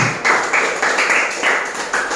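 A class of students claps hands together in a short burst of rhythmic applause, the claps landing in regular pulses roughly every quarter second, close and fairly loud with little talk.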